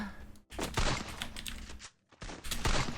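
Rapid bursts of gunfire from Garena Free Fire, loud and close, with dense repeated shots broken by short pauses.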